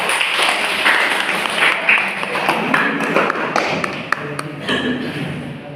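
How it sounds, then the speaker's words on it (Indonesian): A classroom group applauds the middle team with a burst of quick, uneven clapping and tapping from several people at close range, and some voices come through faintly underneath. "Tepuk tangan untuk posisi tengah."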